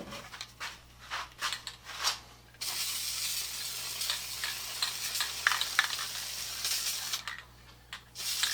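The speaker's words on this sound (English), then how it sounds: "I'm going to put some spray adhesive on this." DAP Weldwood multi-purpose spray adhesive hisses from an aerosol can onto a cracked truck center console armrest, in a few short bursts and then one long steady spray, close and fairly quiet.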